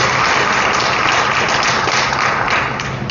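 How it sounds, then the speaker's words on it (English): A crowd applauds at a community tribute event in East St. Louis, steady, dense clapping throughout, loud and full with no break, tapering slightly near the end. "Let's give her a round of applause"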